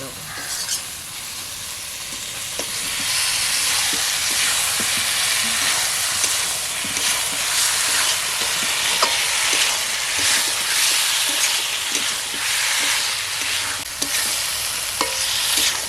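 Fried potato and chicken pieces go into oil-separated spice paste for a village-style country chicken curry, giving a steady loud sizzle with repeated scraping stir strokes throughout, no talking.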